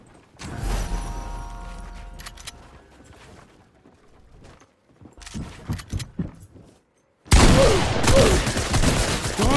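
Bursts of gunfire in a Fortnite match ring out, first as distant rattling volleys, then after a short gap as loud, close, dense shooting that fills the last seconds.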